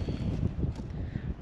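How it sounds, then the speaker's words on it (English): Wind blowing outdoors in a spring garden, rumbling buffets of gusts against the microphone in low, uneven surges with no voices. "it's windy"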